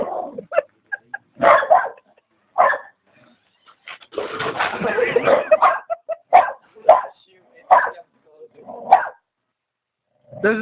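A dog barks in short, separate bursts with a longer growling stretch in the middle, loud and close, while people talk in between.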